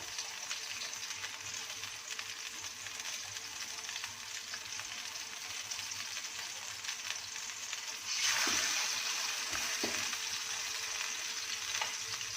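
Chicken pieces go into hot oil in a single pot for quick Saudi kabsa and sizzle steadily. The frying swells louder around the middle as more pieces are dropped in, with a couple of soft stirring knocks.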